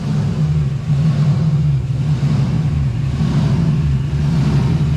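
A V8 engine, an LS swap in a Nissan 240SX, idles outdoors with a steady low rumble and slight lope, loud and close, alone without talk.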